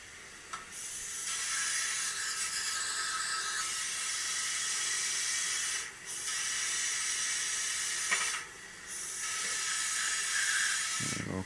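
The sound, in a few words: spray gun being cleaned in a gun wash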